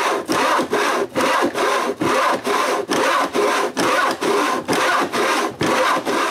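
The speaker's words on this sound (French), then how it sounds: "Ensuite, je place la scie sur ma ligne," A hand saw cuts through wooden boards in steady, rhythmic back-and-forth strokes, about ten rasping passes with brief pauses between them, close and loud.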